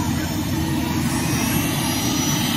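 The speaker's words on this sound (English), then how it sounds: "We're gonna watch the helicopter take off in a little while." A New Jersey State Troopers helicopter lifts off, its engine and rotor making a loud, steady, broadband roar that stays constant throughout.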